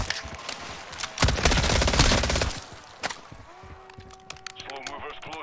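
An automated turret in Call of Duty: Modern Warfare 3 Zombies fires loud, rapid bursts of gunfire that swell into a dense barrage, then break into scattered shots, with players talking over it.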